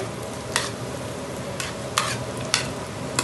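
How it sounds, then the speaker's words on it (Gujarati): Fried onions are stirred in a pan with a spoon while cooking honey chilli potato: a steady sizzling hiss runs throughout, with several sharp scraping clicks at irregular intervals, close and clear. "ડુંગળી ફ્રાય કરેલી છે તે નાખીશું."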